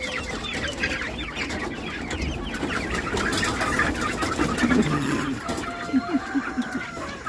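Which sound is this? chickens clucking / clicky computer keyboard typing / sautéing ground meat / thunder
chickens clucking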